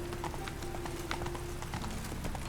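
Roach the horse galloping in The Witcher 3, a fast steady clip-clop of hooves with a faint background tone, close and continuous, no talk.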